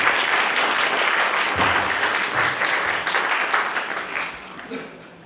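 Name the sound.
audience applause welcoming guests at a stage theatre event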